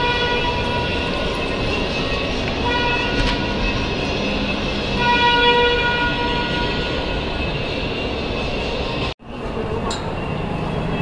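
Ride-on trains running inside a mall in Ludhiana, heard as a steady, loud rumble with tonal whine and a brief horn-like tone amid crowd ambience, cutting off sharply near the end.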